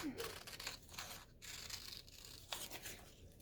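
Scissors snip and slide through dress fabric while a bodice is trimmed, giving a quiet, close, papery rasp in several short cuts and pauses.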